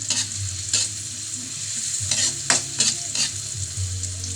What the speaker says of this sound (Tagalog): Halu-haluin lang hanggang sa maluto-luto ang sibuyas.